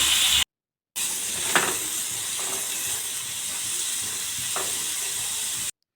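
Bottle gourd with fish curry spices (cumin, turmeric, oil, salt) frying in a pan: a steady close hiss and sizzle carries through, with a few brief clinks of stirring and no talk.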